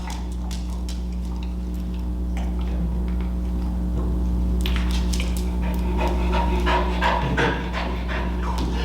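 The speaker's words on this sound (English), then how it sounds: "Is the panting just him like trying to concentrate? The panting is stress." A dog pants rapidly and steadily from stress during an obedience lesson on the down command, close and continuous, with a constant low hum and scattered ticking or scraping sounds, and no talk.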